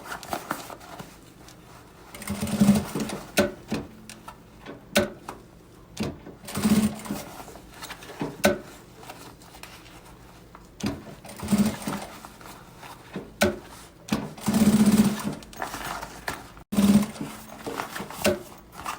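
A sewing machine stitches along the edge of a fabric pencil case in several short bursts of motor whir separated by pauses, with a few quiet handling sounds between runs.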